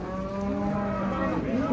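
Bulls low steadily and loudly at the Karakol livestock market, one sustained moo under a busy outdoor crowd murmur.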